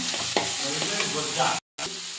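Chopped carrots stir-fried in hot oil in a pan for fried rice sizzle loudly and steadily, with scraping stirs and a brief drop to silence near the end.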